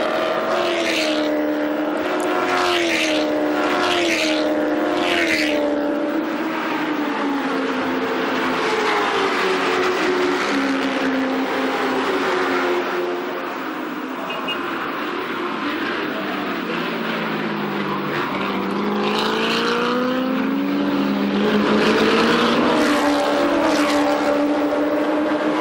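Chevrolet Lumina V8 race cars racing on the Bahrain circuit roar past in a loud, continuous drone, engine pitch rising and falling as cars pass and shift, with several overlapping engines and no voices.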